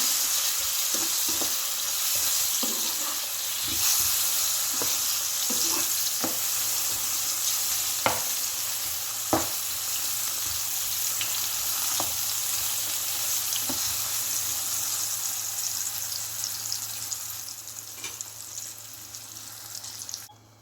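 Sliced ethapazham plantain fries in a pan with a continuous close sizzle, dotted by irregular spatula clicks and scrapes that thin toward the end; no talking.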